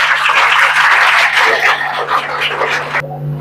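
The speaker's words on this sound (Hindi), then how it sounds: "तालियां जोर से बजा सकते हैं।" Audience at a college event clapping loudly for a guest, a dense burst of hand claps that thins out and stops abruptly near the end, followed by a low hum.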